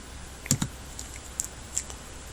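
Computer keyboard keys are pressed during Excel work, giving a few soft, close clicks: a quick double tap followed by two lighter isolated keystrokes over a quiet room hum, with no talking.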